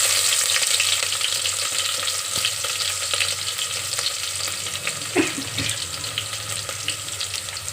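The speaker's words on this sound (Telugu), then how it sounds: "ఆనియన్స్ వేస్తున్నానండి. సన్నగా పొడవుగా తరుక్కున్న ఆనియన్స్." Thinly sliced long onions sizzle loudly in oil in a pan, cooked for eggplant bagara rice. A steady close frying hiss fills the whole stretch, with occasional stirring scrapes and no talk.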